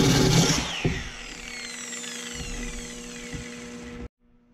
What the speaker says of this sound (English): Look at that cut. That's just with the grinder.